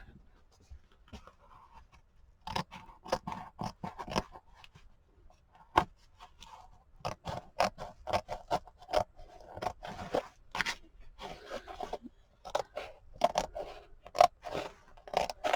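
Scissors snip through journal cover material in a long series of crisp, close cuts, some quick runs and some isolated snips, with small rustling and scraping between them and no speech.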